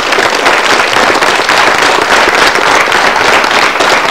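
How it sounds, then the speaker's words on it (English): Dense, loud crowd applause and cheering at the Tropicana Festival on a busy street, heard as a continuous clatter of many hands clapping close by. "Give Jared Gossens a big round of applause."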